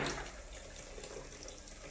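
Hot water pours steadily in a close, continuous splashing stream, like liquid running from a tap into a vessel, with no talking.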